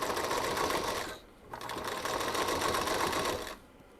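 A sewing machine stitches fabric in two close, steady bursts of rapid needle whirring, separated by a brief pause, with the motor trailing off at the end; no one speaks.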